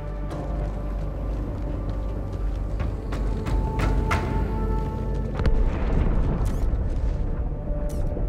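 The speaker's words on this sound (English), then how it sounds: "That explosion came from inside the Athens." In Halo 2 Anniversary, an explosion erupts inside the ship Athens, heard as a rumbling roar with sharp crackling bursts that stays loud and dense throughout.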